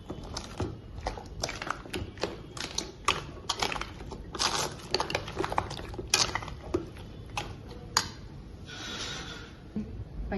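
Vegetable rice with cumin powder and garam masala being stirred in a pot, with repeated scraping, clinking and knocking of a spoon against the pot at an irregular rhythm, close and moderately loud.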